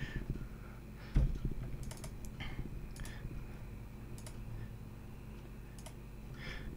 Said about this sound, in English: I'm gonna type a message with the keyboard.